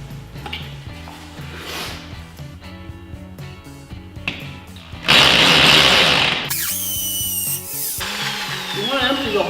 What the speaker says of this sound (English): You want the hammer drill to do the work.